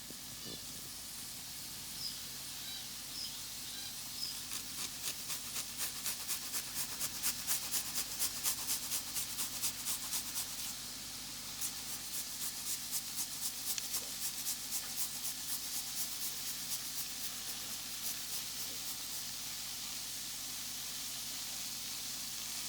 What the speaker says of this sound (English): I'm gonna grate my garlic.